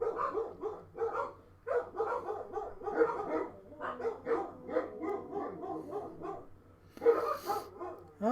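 Agitated dogs in a zombie video game bark in a dense, nearly continuous run of overlapping barks, close and loud, with a brief lull before a final louder burst.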